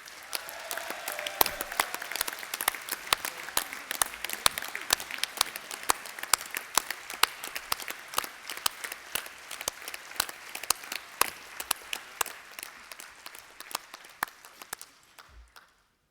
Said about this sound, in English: Please feel free to express your views and applaud loudly as he does so.